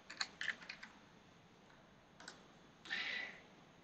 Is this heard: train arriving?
no